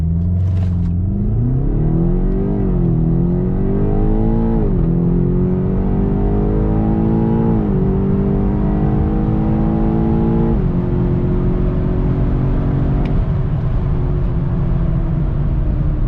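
A BMW X5M engine revs during a launch control start, holding a steady loud drone with stepped rises in pitch for about sixteen seconds, close and continuous with no voices.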